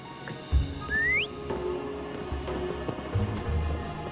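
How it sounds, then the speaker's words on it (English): In the video game Wuthering Waves, a character whistles once to call a companion: a short clear rising note over game ambience with soft thuds and clopping steps. "Why don't you call Foam over? Try whistling."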